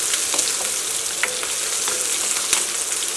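Onion, ginger, green chilli and garlic sauté in a pan for an egg curry, making a steady bright hiss with occasional sharp crackles and pops, close and loud, with no speech.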